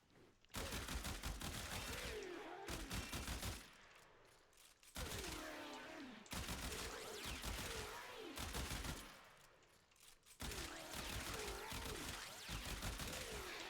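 Bursts of rapid gunfire from the Burston Prime in Warframe, fired in several long strings separated by short pauses, loud and close with a voice talking underneath.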